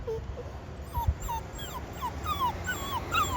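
A 35-pound dog whimpers in a string of high, thin whines and yips close by, repeated every half second or so over a low wind-like rumble, with no talk.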